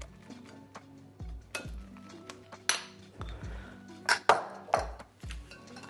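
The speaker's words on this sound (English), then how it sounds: "Let's whisk that all together." Eggy cake batter for a Matilda chocolate cake is whisked by hand in a bowl: quick, irregular scraping strokes with bright clinks of the whisk against the bowl, close up and without talk.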